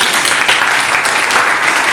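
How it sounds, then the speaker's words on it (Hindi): An audience at a women's polytechnic college in Jaipur claps loudly, a dense, continuous applause for the whole moment, close and full. "मैं चाह रहा हूँ कि एक वर्ष भी लोग ताली बजा कर उनका स्वागत करें"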